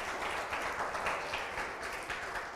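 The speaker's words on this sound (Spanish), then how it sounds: "Démosle un buen aplauso al Rey de Reyes" Church congregation applauding, a steady, fairly soft wash of many hands clapping with no voices over it.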